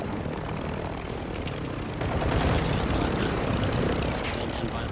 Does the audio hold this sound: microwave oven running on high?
no